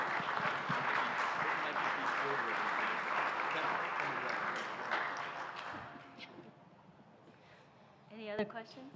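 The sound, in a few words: audience applause for panel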